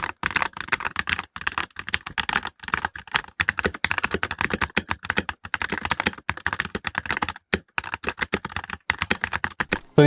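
Typing on a Redragon K617 Fizz hot-swappable mechanical keyboard with red switches, a rapid, uneven stream of close, crisp key clacks with brief pauses, no voices.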